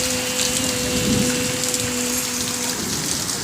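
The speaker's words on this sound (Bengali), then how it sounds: "বৃষ্টি পড়ছে, চলো টাটা, সবাই খুব ভালো থেকো" Heavy evening rain pouring down steadily, a loud, dense, close hiss of drops on surfaces with a faint steady tone running under it, no talking.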